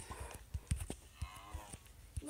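Farm animals in Minecraft PE, including sheep, cows and pigs, heard as quiet, scattered game sounds: short thuds and steps with faint animal calls, sparse and irregular.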